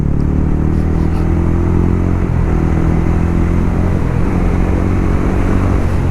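A motorcycle with an aftermarket silencer and no dB killer drones continuously up close, a deep steady exhaust rumble with slight shifts in pitch, no talking.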